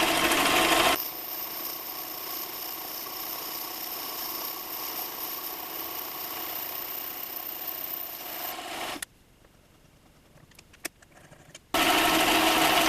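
A metal lathe machining an aluminum faceplate runs with a steady whirring hum, stopping abruptly for a few seconds of near quiet before starting up again loudly.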